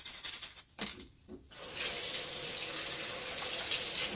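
Raw crab scrubbed with a clean brush under a running kitchen tap: a few brief splashes and brush scrapes, then a steady loud stream of water pouring into a sink, close up with no talk.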